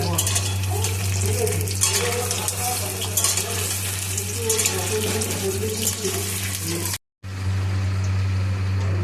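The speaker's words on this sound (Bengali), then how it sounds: "তারপরে আলুগুলোকে নাড়াচাড়া করে ভেজে নিচ্ছি" Potatoes for a Bengali mutton curry are stirred and fried in oil in a kadai. They give a continuous loud sizzle and crackle with stirring scrapes, over a low steady hum. The sound cuts out for a brief moment near the end.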